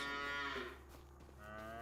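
Cows mooing in the farming video game Farming Simulator 25: a single long, drawn-out moo, close and clear, with no talking.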